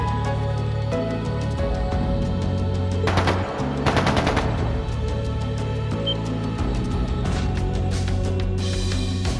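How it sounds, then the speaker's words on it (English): Rapid bursts of automatic gunfire in the video game Trails of Cold Steel II crackle in two clusters over a continuous droning musical background, with no voices. "That sounded like gunfire."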